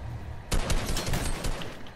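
Rapid rifle fire bursts out abruptly after a brief quiet moment, a rattling stream of shots in a game that continues to the end.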